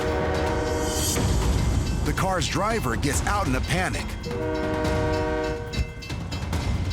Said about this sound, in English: as a northbound train approaches